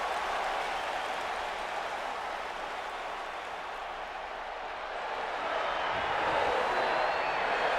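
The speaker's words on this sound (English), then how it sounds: "the crowd showing their appreciation for our new General Manager." Crowd applauding in the wrestling video game WWE 2K19, a dense, continuous wash of clapping and cheering from a large arena audience, steady throughout and swelling slightly near the end, with no talk.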